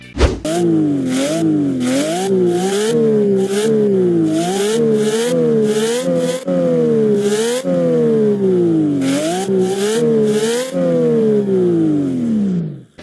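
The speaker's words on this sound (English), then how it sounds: "Midnight Chaser's engine actually sound amazing for what the cars are. Just listen to this Porsche for a second." A Porsche engine in the racing video game Midnight Chasers revs up again and again, each rev a rising whine that drops back, loud and close with no talk.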